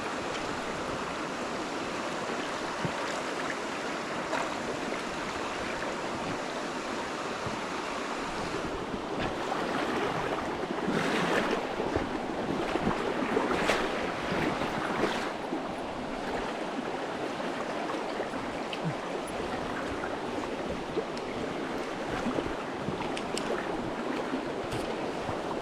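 A river on the Kenai Peninsula rushing steadily as a broad, continuous wash of water noise, moderately close, swelling slightly in the middle with some wind buffeting and no voices.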